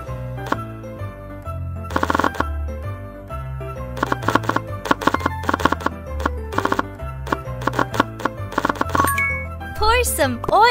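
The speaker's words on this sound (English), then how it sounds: "Chop it." Chopping food in a kids' cooking video game, Power Girls Super City: quick clusters of sharp knife knocks in bursts over bouncy game music, ending with a bright chime.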